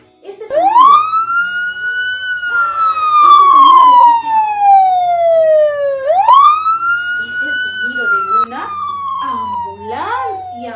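A wailing emergency siren, loud and close, rises and slowly falls in two long sweeps, with faint background noise beneath it.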